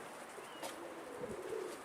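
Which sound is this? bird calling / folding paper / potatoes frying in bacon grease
bird calling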